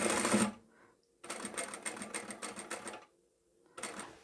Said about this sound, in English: now we're going to sew up this side seam